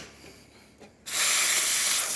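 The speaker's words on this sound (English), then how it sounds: "Great steam coming out from the one." An espresso machine's steam wand, freshly serviced after milk residue fouled its boiler, bursts into a loud, continuous hiss after a quiet moment and holds steady to the end.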